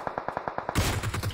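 Rapid gunfire in PUBG Mobile, a burst of about seven evenly spaced shots, followed by a louder, denser crackle of continued firing and impact noise.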